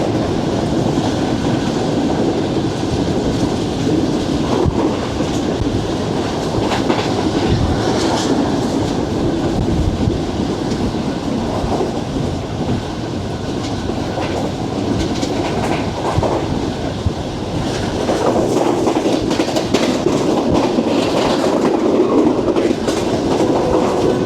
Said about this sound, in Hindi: पास थ्रू हो गई ट्रेन अपनी बुक स्पीड के अंदर।